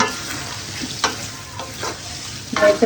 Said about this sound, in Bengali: এইভাবে আলুগুলো দিয়ে একটু করে কষাতে হবে